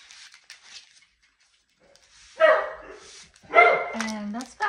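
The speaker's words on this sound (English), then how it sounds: "sorry about the dogs" Dogs bark loudly indoors in two bursts, with a yip and whimpering tones, after faint background noise near the start.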